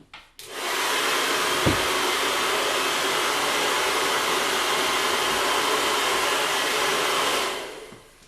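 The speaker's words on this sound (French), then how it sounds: "les lutins du Père Noël vous empruntent votre sèche-cheveux pour sécher les cadeaux" A hair dryer switches on and blows with a steady, loud whoosh for several seconds before cutting off.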